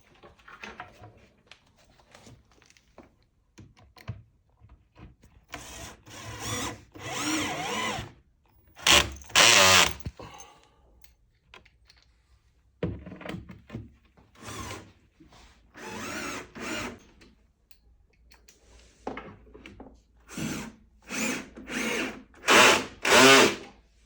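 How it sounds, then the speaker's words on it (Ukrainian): A power drill drives confirmat screws into panels of a white changing dresser during assembly, with repeated short whirring bursts separated by pauses and quiet handling. "Теж за допомогою конформатів закручуємо."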